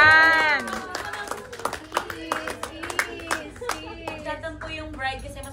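Wedding guests clap and cheer for the groom during a bouquet and garter game, with lively hand claps mixed with raised voices and shouts from a nearby crowd.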